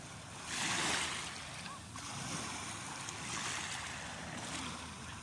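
Sea waves washing in at the water's edge before sunset, a steady broad surf hiss with gusty wind noise across the microphone and a swelling wash near the start.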